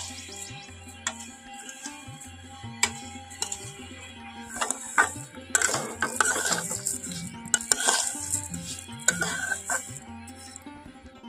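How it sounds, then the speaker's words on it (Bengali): Sugar being stirred into semai in a pan, with a spoon clinking and scraping against the metal in an irregular rhythm that sometimes bunches into busier spells, plus a faint sizzle beneath it. "চিনিটা দিয়ে খুব ভালোভাবেই কিন্তু নাড়াচাড়া করে নেব"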